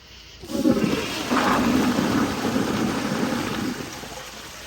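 Kohler Kingston 1.6 gpf toilet flushing with 100 feet of toilet paper in the bowl: a loud rushing, gurgling surge of water that holds steady for several seconds, then begins to fade.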